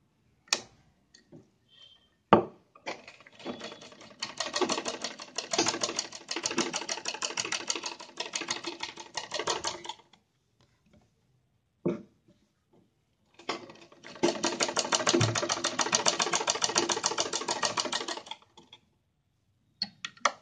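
A sewing machine stitches along the sides of buckram on a kurti collar, with two long runs of rapid, even stitching separated by a short pause and a few handling clicks. No one speaks.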